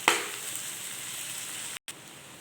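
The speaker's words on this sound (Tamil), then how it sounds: "அடுத்து வந்து நம்ம பொரித்து வச்சுருக்க சிக்கனை போட்டுக்கணும். அது கொஞ்சம் அப்படியே வதக்கி விட்டுக்குவோம்." Fried chicken sizzles steadily in a pan with onion and pepper, a close, even hiss of sautéing with a brief clatter at the start and a short gap near the end.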